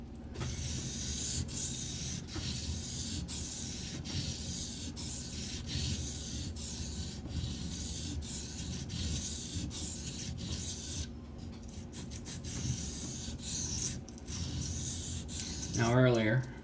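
A Benchmade 970S Emerson Spec War CQC7 tanto knife blade is stroked across a 320 grit abrasive, producing soft, repeated rasping rubs at a steady pace, close but quiet, with a brief higher whine near the end.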